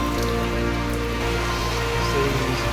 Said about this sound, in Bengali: ও সেই বৃষ্টি হচ্ছে